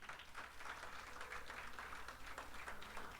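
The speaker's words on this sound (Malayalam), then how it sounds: "നമുക്കെല്ലാവർക്കും ഒന്നു ചേർന്ന് അച്ഛനെ ഒരിക്കൽ കൂടി ഒരു നല്ല കൈയടി കൊടുക്കാം." An audience claps together at an inauguration event, with steady, continuous applause that sounds distant and muffled, and a low murmur running underneath.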